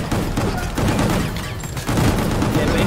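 Rapid, continuous gunfire from an infinite-ammo gun in the video game Gungrave Gore, a dense dry rattle with no pauses that runs loud through the whole stretch and drowns out everything else.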